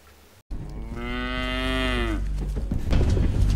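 A single long, loud cow moo from the Danish film Blinkende Lygter, a drawn-out harmonic bellow lasting over a second before ambient noise resumes, with no speech.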